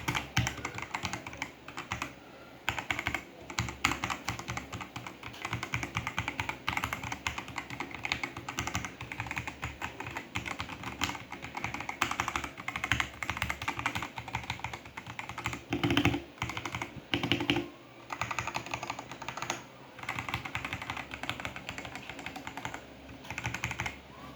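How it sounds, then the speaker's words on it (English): Continuous clacking of keys typed on a Machenike K500A-B84 mechanical keyboard, a steady close-up patter of keystrokes with brief pauses, no voices. "So this is what it sounds like when typing."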